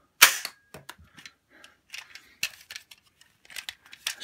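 A cheap Poundland Nerf gun firing a foam dart indoors: a sharp snap at the start followed by scattered lighter clacks and taps as the dart ricochets off a nearby wall and the mechanism is handled, close and dry.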